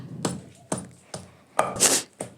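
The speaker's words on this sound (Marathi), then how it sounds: "आता इथं पाट्यावर बारीक करून घेतायत अशा पद्धतीने आपण बारीक करून घेतले खोबरं" Coconut being ground by hand on a traditional stone slab, a series of rough scraping and rubbing strokes in an uneven rhythm, close and fairly loud, with no talking.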